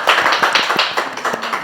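Applause from a small audience greeting a psychologist guest on a Thai talk show, a quick run of overlapping claps lasting under two seconds, fairly close and steady without any voices.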